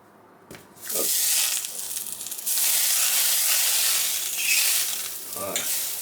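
Margarine sizzling in a very hot pan for a homemade burger, a loud, bright frying hiss that bursts in after a quiet start and crackles steadily, with brief clattering stirs along the way.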